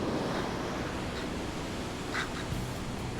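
Surf rolls onto a Florida beach in a steady, fairly faint wash of breaking waves, with wind noise and no voices.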